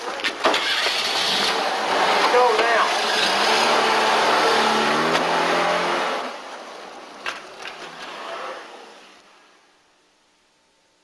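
A car starts and pulls away with a loud, close engine roar and rising revs that hold for several seconds, then fade into the distance; a voice briefly shouts at the start.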